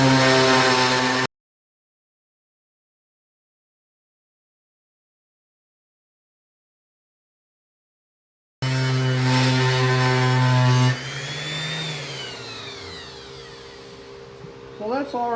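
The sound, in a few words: sanding a wooden segmented bowl bottom with 220 grit sandpaper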